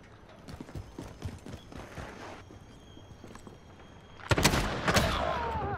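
Video game gunfire in a tense competitive match, with a quiet spell of sparse light impacts and footstep-like clicks, then a loud dense burst of shots and action near the end.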